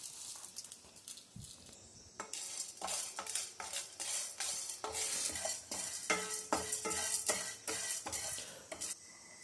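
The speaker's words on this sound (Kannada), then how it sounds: "ಹಾಕಿ ಚೆನ್ನಾಗಿ ಬ್ರೌನ್ ಕಲರ್ ಬರೋವರೆಗೂ ಹುರಿದುಕೊಳ್ಳಬೇಕು." Chana dal roasting dry in a heated pan (kadai), stirred with a spoon: repeated scraping and rattling strokes with light sizzling, close and fairly quiet, with no one talking.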